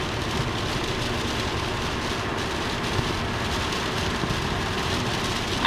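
Steady wash of rain spray and tire hiss on a wet road around a semi truck, loud and continuous with a low rumble of traffic underneath, no talking.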